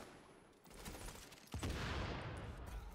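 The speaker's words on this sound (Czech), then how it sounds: "oni střílí tam tuď" Gunfire in the video game Tom Clancy's The Division, a continuous burst of shots that grows louder and denser partway through, ringing out without speech.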